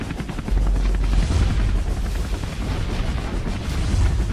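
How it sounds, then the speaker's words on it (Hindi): A cartoon rocket fires from a firecracker-rocket jeep with a sustained roaring, rumbling whoosh that swells at the start and keeps up a noisy blast with heavy low-end booms throughout. "अपनी रॉकेट पटाखा जीप से रॉकेट फायर करता है"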